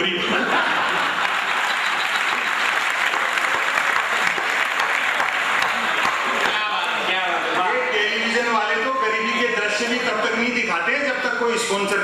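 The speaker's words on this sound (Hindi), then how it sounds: "और तालियां तो आपकी अब बजनी चाहिए।" Audience applause at a Hindi poetry and satire stage program, dense continuous clapping from a large crowd lasting the full twelve seconds at steady loud volume, with a voice coming through near the end.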